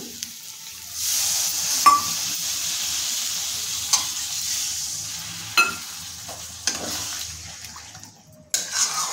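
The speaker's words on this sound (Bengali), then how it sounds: "এবার আমি দিয়ে দেবো মশলা ধোয়া জল।" Water used to rinse the spices is poured into a frying radish curry, raising a hissing sizzle, with several sharp clinks of a spoon against the pan as it is stirred; no one speaks.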